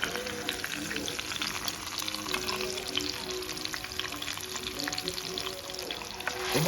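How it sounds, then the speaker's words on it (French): Chicken pieces fry in olive oil in a tagine with a busy, crackling sizzle, a dense spatter of pops carrying steadily at close range. "Au moment où vous voyez que ça grésille"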